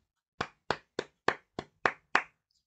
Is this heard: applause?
yes